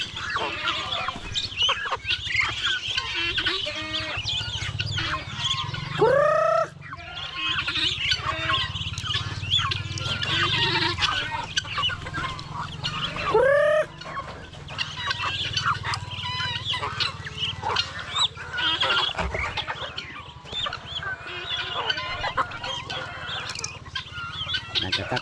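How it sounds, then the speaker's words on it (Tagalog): Backyard chickens clucking steadily alongside Bengal chicks, a dense, continuous flock chatter with a couple of louder rising calls standing out, close and busy throughout, with no talk. "May sisiyo tayo ng Bengala na andun sumunod sa ating alagang manok."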